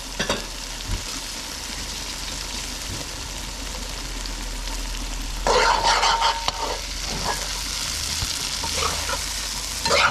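Shrimp simmer and sizzle in a curry sauce with potatoes, a continuous close frying hiss that flares into louder crackling bursts midway and again near the end.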